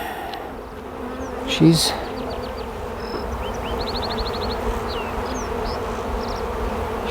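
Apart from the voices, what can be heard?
honey bees buzzing around a queen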